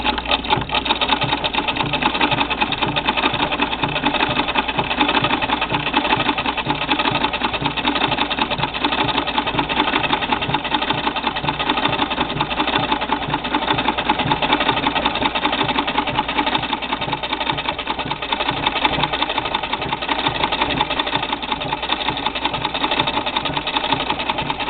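A 1937 Singer 15-88 sewing machine mounted in a Singer treadle runs steadily and close, giving a continuous soft whir with a fast, even mechanical ticking throughout. No one speaks.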